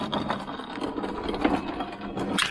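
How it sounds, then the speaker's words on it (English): An old-fashioned corn grinder runs, grinding slightly wet corn with a steady close mechanical whir and rasping crunch, rising in a brief louder burst near the end; no talk. "I'll just take some and we'll put it in the grinder."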